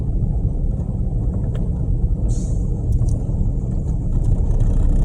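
A mixer truck with a burst right rear tire keeps driving along a city road, giving a steady low rumble of engine and road noise that stays loud and even throughout, with no voices.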